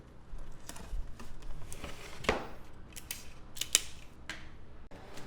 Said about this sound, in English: I'm taping this all up, and then making sure that my flaps don't come up.